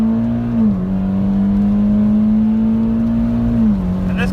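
A 2015 Mitsubishi Lancer Evolution MR launching from the brake, its turbocharged engine droning loud and steady with a slight pitch dip near the start and again near the end, close and continuous with no talk.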